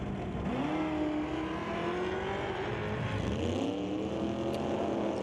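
A Dodge Dart drag race car at an NHRA event runs steadily with a sustained engine note, and its pitch dips and shifts midway as the car drops into neutral, heard from a distance with no talk.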